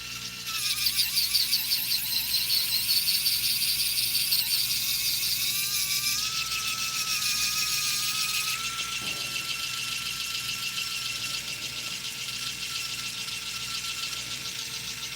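An Arrowmax rotary drill kit bores a hole with a high, sustained whine that shifts pitch as it cuts and eases under load, close and continuous, with faint low machine hum beneath.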